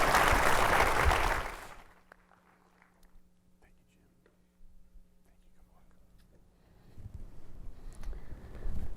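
Audience applause for two keynote speakers at a tech industry talk on automotive chips, a broadband burst of clapping for the first two seconds, then a quieter lull before the clapping swells again near the end.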